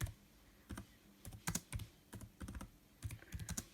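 Keys tapped on a computer keyboard while a class name is typed into Google Classroom, heard as quiet, irregular clusters of close clicks with short pauses between words and no talking.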